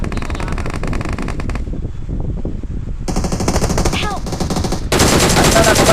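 Rapid shotgun and automatic gunfire in the battle royale game PUBG Mobile, loud bursts of shots clustered close together with a brief lull midway and a dense final volley.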